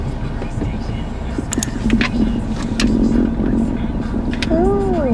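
A 2024 Mercedes-Benz CLA 250 pulls away from a stop, its engine hum rising steadily from inside the cabin, with road noise and a few faint clicks and beeps.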